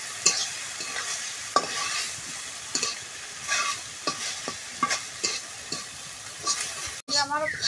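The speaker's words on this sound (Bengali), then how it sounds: "এই যে আমার ভাজিটা কিন্তু ভাজা হয়ে গেছে, এখন নামাবো।" A vegetable bhaji of winter vegetables stir-fried in a karahi with salt and turmeric, a steady sizzle broken by repeated scraping strokes of the spatula, close and loud, with no talk.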